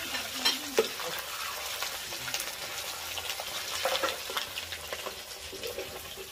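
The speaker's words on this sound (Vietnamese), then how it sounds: "Nem rán." Spring rolls (nem rán) fry in a pan, a soft continuous sizzle with occasional scraping and stirring clinks, fairly quiet and close, with no talking.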